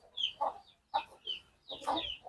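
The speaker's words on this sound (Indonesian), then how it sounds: "Ini ayam kampung" Free-range village chickens cluck in a series of short, close calls in three bursts, with quiet gaps between and no talk over them.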